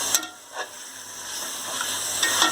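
Onions, mint and coriander leaves sauté in oil for chicken biryani, a steady sizzle broken by a few sharp scraping stir strokes, close by, with no talking.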